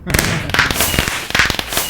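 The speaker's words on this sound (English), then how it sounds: "I don't like the fireworks. I have to say, it is cool that they shoot off, but they are way too loud" Fireworks launching in the video game Horizons II Daybreaker, a rapid series of loud, close crackling bursts and sharp pops in quick irregular succession.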